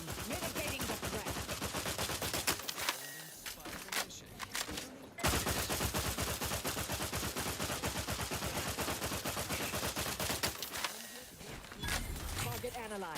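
Rapid, dense gunfire erupts in a video game, sustained bursts of shots crackling nearly continuously with short pauses, while voices speak over the shooting.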